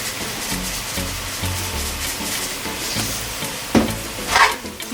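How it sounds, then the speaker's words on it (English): Jamaican pepper shrimp with hot peppers and salt sizzles and fries in a pan while being stirred, a steady close sizzle with scraping stirs and a couple of louder utensil clatters near the end, no talking. "Give it a stir."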